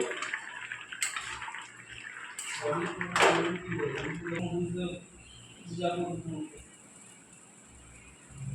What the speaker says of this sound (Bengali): আমার সবজি সিদ্ধ হয়ে গিয়েছে, এবার আমি সবজিটা ঢেলে নেব